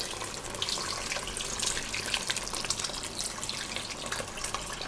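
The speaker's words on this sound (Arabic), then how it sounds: "نسيي المرق بالماء سخون" Hot water poured into a pot of chicken to make broth, a steady close splashing gush running without a break and with no talk.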